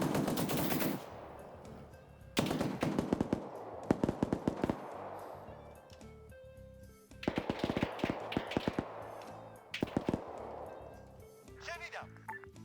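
Repeated bursts of automatic gunfire in a military video game battle between modern-day Ukrainian forces and PMCs, with loud rattling volleys at intervals and radio-style voices talking between and over the shots.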